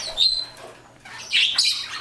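Pet parrots in a home bird room, including a king parrot, superb parrot, moustached parakeet and Senegal parrot, give two bursts of shrill squawks in the morning, close by with quieter chatter between them.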